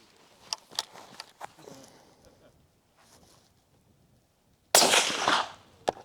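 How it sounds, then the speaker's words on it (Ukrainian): Faint clicks and handling noises give way to a single loud, sharp shot from a Los .308 carbine fitted with a Reva 2 suppressor that booms briefly, then fades. "Стріляємо з Лушника Рева 2, карабін Лось 308 калібр"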